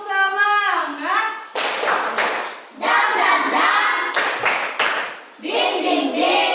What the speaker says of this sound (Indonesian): Kita tepuk-tepuk dulu sama nyanyi ya.